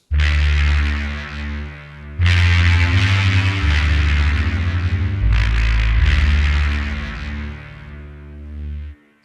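Diesel power sample from the Orchestral Tools FABRIK sound library, a loud deep throbbing hum that swells in three sustained bursts, each fading toward the end.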